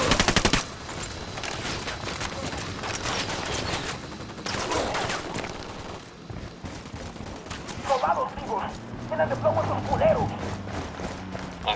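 Automatic gunfire in Ghost Recon Wildlands, with rapid bursts and single shots that carry on through the clip, while voices and other game sounds are mixed in.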